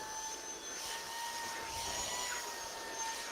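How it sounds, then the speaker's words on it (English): A Wise robot vacuum runs nearby with a steady whirring hum and high-pitched motor whine, constant and unbroken with no voices. "the Wise Robot Vacuum."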